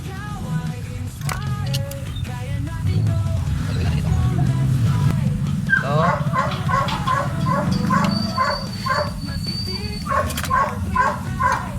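Several dogs bark and yip repeatedly in the background, fairly steady over a low rumbling hum, with a few brief whimpers mixed in.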